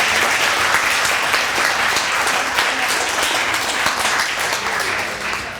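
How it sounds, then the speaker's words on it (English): Dense, sustained clapping from an audience honouring a speech and language therapist, loud and even throughout, fading slightly at the end. "A round of applause,"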